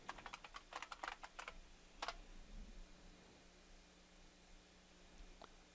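Quick keypresses tap out a password on a computer keyboard at a Kali Linux login screen, a short burst of clicks followed by a couple of isolated taps, faint against a quiet hum.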